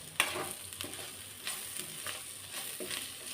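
Chopped tomato pieces fry with fenugreek leaves in a pan, an even close sizzle broken by an opening clatter and a few soft stirring scrapes.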